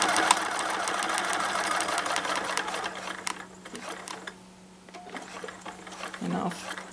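A sewing machine stitches a newborn mermaid outfit tail in a fast run that stops midway, then brief handling noises follow. A voice may talk faintly underneath.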